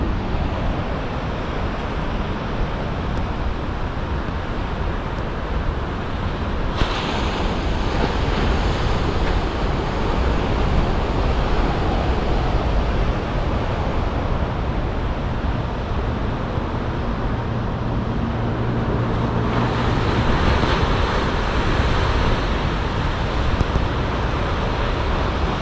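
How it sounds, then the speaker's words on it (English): Ocean waves wash steadily along the rocky Big Sur coast, a continuous broadband roar of surf with wind buffeting the microphone throughout, no voices present. "just listen to this. Just listen to the ocean."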